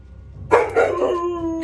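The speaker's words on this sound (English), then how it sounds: "The dog's gonna bark for a while." A dog barks and then breaks into a drawn-out howl, loud and close, with a sharp bark followed by a wavering sustained cry.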